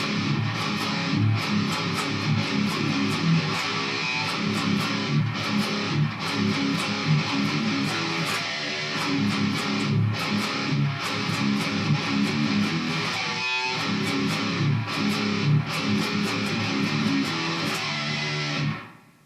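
Distorted electric guitar plays an interlude with chugging palm-muted riffs and a quick fill, loud and continuous until a sudden stop near the end.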